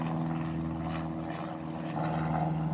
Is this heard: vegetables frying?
no